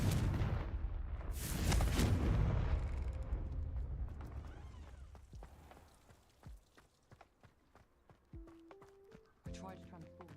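A Confringo spell explosion in the Hogwarts Legacy video game: a heavy blast that swells and roars for about two seconds, then decays into scattered thuds and clatter, with brief voice-like sounds and game noises trailing after.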